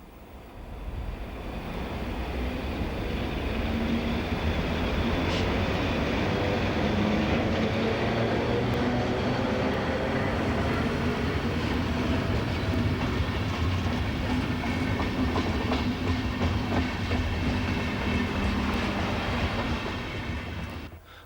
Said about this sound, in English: 10 minutes after the train's arrival, the twin pantographs are raised and the train is underway again.